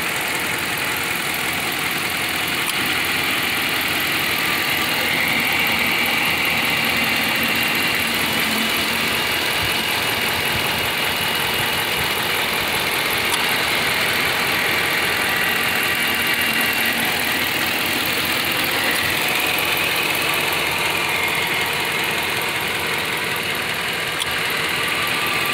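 A 2014 Jeep Grand Cherokee Overland with the 5.7 liter Hemi V8 idles steadily after a drive, a close, even, continuous rumble with no voices over it.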